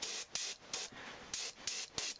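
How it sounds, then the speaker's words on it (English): Short bursts of pearl white spray paint hiss from an aerosol onto a crankbait fishing lure, six quick sprays in an uneven rhythm with brief pauses between, close and clear. "Just spray a little bit on the bottom there."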